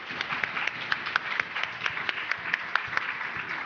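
Audience clapping at a quantum information competition award ceremony, a fairly quiet, steady patter of many hands with distinct individual claps standing out throughout.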